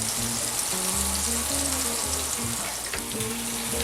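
Chopped onions fry in a pan while monkfish à l'armoricaine is being prepared, giving a steady, even sizzle with a low, tonal hum running underneath.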